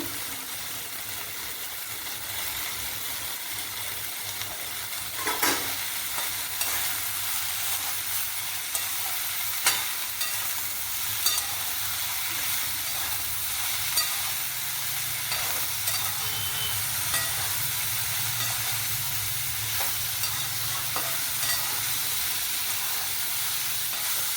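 Snake gourd fries with coconut, salt and turmeric in a pan, sizzling and hissing steadily throughout while a utensil stirs it with occasional scrapes and clinks, close by and without talk.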